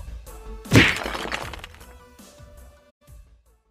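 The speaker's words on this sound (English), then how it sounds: "make it sound like it's punching through a brick wall" Designed punch sound effect with a lengthened release, meant to evoke smashing through a brick wall: one heavy crunching impact followed by a decaying rumbling tail and a couple of softer knocks.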